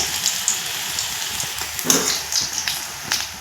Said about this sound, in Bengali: এখন এই স্প্রিং করলাটা এই তেলে ডুবিয়ে দেব আর হালকা আছেই কিন্তু ভেজে নিতে হবে